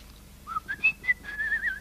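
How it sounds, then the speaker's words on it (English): A person whistles a short, wandering melody of several sliding notes, clear and close, with no one talking. "He's just whistling."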